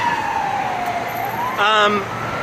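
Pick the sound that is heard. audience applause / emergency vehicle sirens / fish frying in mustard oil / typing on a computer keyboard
emergency vehicle sirens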